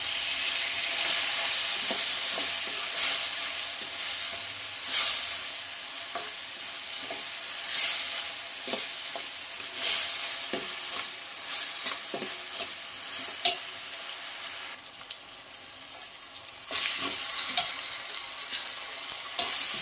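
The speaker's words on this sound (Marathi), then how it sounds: "याला मऊ शिजेपर्यंत फ्राय करणार आहोत आपण" Asafoetida and vegetables sizzle steadily in a pan for sambar, with repeated louder bursts of stirring and scraping every few seconds over a continuous close frying hiss.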